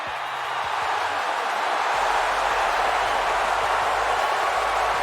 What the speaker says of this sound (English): Listen to this ovation. The WWE Universe loves cheering on the EST.